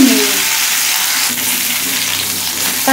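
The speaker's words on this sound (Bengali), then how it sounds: "ওল ভালো করে ভেজে নেব" Raw, unboiled elephant foot yam fries in oil in a pan with a loud, steady close-up sizzle, a dense continuous hiss with a faint stirring scrape.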